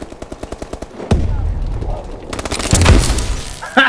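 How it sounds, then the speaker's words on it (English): Rapid bursts of game gunfire in Call of Duty: a quick string of evenly spaced shots up front, then heavier sustained firing and booms, loud and close with a voice talking over part of it. "Who's shooting at him?"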